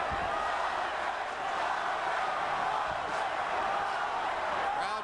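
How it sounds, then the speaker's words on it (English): A boxing arena crowd chanting for fighter Fernando Vargas during a bout with Oscar De La Hoya, a steady roar of many voices filling the whole stretch. "Crowd chanting for Vargas."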